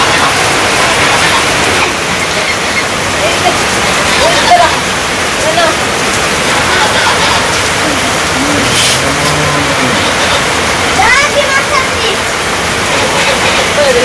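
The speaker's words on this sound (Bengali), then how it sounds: "মানে আরো জোরে নেমে গেল বৃষ্টি।" Heavy rain in a village makes a loud, unbroken roar of falling water, with people talking throughout over the downpour.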